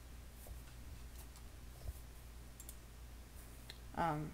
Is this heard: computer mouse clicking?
yes